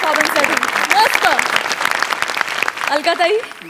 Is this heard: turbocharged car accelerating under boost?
no